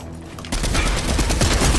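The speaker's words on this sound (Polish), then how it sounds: "Strzela, ktoś strzela!" Dense, rapid gunfire bursts in the video game Fortnite, a loud sustained volley of overlapping shots that starts abruptly and keeps going without pause.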